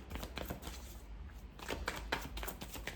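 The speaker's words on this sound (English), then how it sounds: "let me shuffle these one more time because I haven't used this deck in a while" A tarot card deck is shuffled close by, quiet rapid riffling flutters in two bursts with a short pause between.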